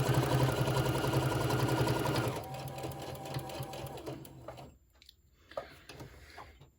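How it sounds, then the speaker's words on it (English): Sewing machine stitching across the bottom of a cell phone pouch, a loud steady motor hum for about two seconds, then quieter intermittent fabric handling and small clicks. "And I'll just sew across the bottom."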